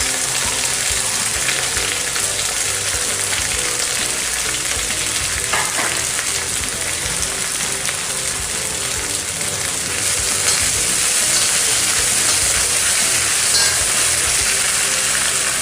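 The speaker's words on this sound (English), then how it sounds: "So I am going to throw one after the other into the hot oil. I'll start with the green chilies, the ginger and the coriander leaves." Green chilies, ginger and coriander leaves frying in hot oil, a loud, dense, steady hiss and crackle, close and continuous with no pauses, like heavy rain on a surface.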